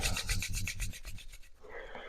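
Hands rubbed briskly together during a prenatal yoga session: a quick run of rhythmic, close, dry rubbing strokes that stops abruptly, leaving quiet room tone.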